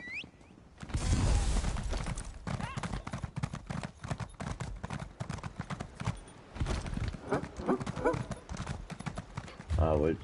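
A horse gallops in the video game Elder Scrolls Online, its hooves clip-clopping steadily under a voice, with game sounds mixed in.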